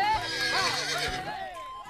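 A toy horse gives a short electronic neigh, a high wavering whinny that falls in pitch and stays close and fairly loud for about two seconds, with no talking over it.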